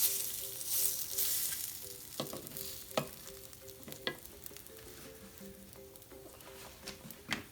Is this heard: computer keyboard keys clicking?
no